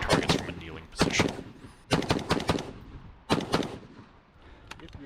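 Rifle gunshots at an outdoor rifle shooting match, several sharp loud cracks in separate clusters of a few shots each with pauses between, near and punchy, ringing briefly after each shot.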